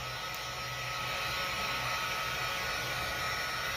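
A heat gun blows hot air to heat-set paint on cloth sock liners, a steady, faint whooshing hiss that stays even from start to finish with no one speaking.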